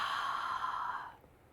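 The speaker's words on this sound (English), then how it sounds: "by narrowing the back of the throat, we create that soft, almost like a hissing sound" A single slow exhale of Ujjayi yoga breath, a soft, close, breathy hiss through a narrowed throat that fades out after about a second.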